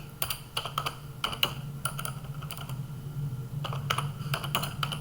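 Key taps from a computer keyboard while Python code is entered, coming in short clustered bursts with pauses between, close and fairly quiet over a low steady hum.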